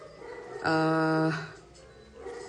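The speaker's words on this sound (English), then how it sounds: "there's a poor dog crying for help outside." A neighbor's dog outside gives one sustained, tonal whining cry lasting under a second, heard at moderate distance over a low background murmur, followed by a fainter trailing whimper.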